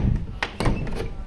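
A house door swings shut, marked by a couple of dull, muffled thuds close by amid household talk and background noise.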